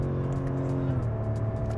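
A 2021 BMW M5 Competition engine drops a gear at speed, its deep harmonic exhaust note shifting pitch in a smooth burble as revs change, heard close and loud from inside the car without any talking.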